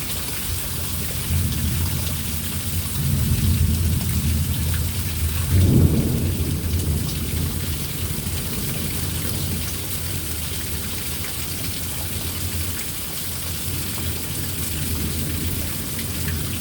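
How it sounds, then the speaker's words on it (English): Heavy rain pouring down steadily during a storm at Merritt Island, a dense constant hiss with a rumble of thunder swelling midway, no voices over it. "I think my front lawn can't handle any more rain."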